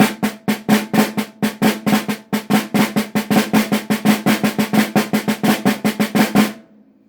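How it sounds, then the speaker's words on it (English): Snare drum playing a continuous pataflafla pattern opening with a flam, a fast, steady stream of close, crisp strokes with flam accents, running for several seconds before stopping abruptly and leaving a brief snare ring. "Usually how it's played, it starts with a flam and then gets into the pata-fla-fla."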